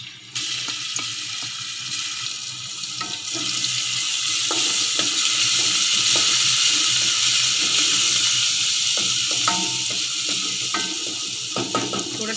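Chopped garlic fries in about two tablespoons of oil in a pot, a steady loud sizzle that swells and holds, with occasional clinks from a stirring spoon.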